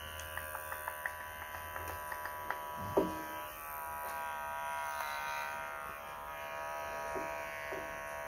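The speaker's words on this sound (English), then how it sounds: "I just want to shave this so we can see" An electric shaver buzzes faintly and steadily while shaving a guinea pig's neck fur, with a low hum under occasional small ticks and clicks nearby.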